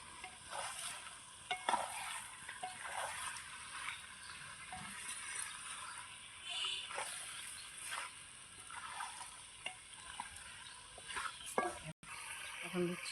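Meat stirred and fried in a pan, soft continuous sizzling with repeated scraping strokes of a spatula, fairly quiet, ending with a sharp clunk.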